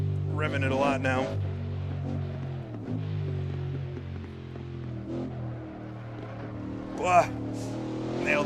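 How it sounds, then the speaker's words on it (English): A Ford GT40 engine in a historic sportscar racing video game revs hard with rising and falling tones and gear-change dips, while someone talks over it steadily. "Revving it a lot now."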